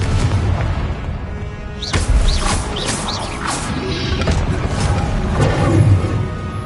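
Explosive magic blasts of the Confringo spell in Hogwarts Legacy: several sharp booms and crackling impacts burst one after another over a constant rumbling backdrop, loud and close.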